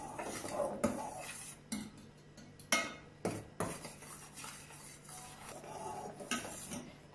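A spoon stirs and scrapes strawberry syrup in a pan, with a run of distinct metallic knocks and scrapes at irregular intervals, near and fairly quiet, with a faint simmer beneath.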